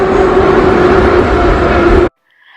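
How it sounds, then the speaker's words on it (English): Loud, steady rumbling roar of an old Moscow metro train in motion, with a constant hum, cutting off abruptly to near silence. "Very old trains are extremely noisy"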